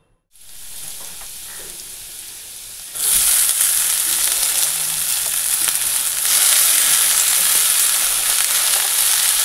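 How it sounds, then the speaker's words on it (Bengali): Dheki greens and potato hit a hot pan and break into a loud, continuous sizzle, which grows louder twice as the frying picks up. The sputtering stays close, bright and unbroken, with no talk. "এই যে আলু দিয়ে ঢেঁকির শাক ভাজা বসিয়ে দিলাম"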